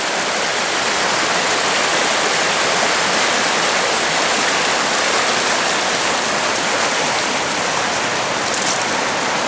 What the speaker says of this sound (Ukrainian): Ось така маленька річечка.